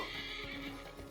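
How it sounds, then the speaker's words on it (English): A horse neighs and whinnies in Assassin's Creed Mirage, a steady, fairly loud call that fills the short moment, with faint hoof clip-clop mixed underneath. "Horse is still there, good."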